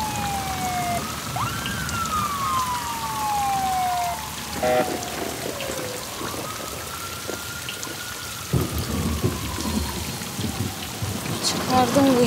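Heavy rain pours down outdoors on a city street during a storm, a dense steady hiss of drops close by, with traffic noise and faint tones underneath.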